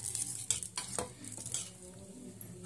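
A spoon stirs batter in a bowl to thin it, scraping and clinking in a few uneven strokes, close and fairly soft, with a faint sizzle of a heating pan underneath.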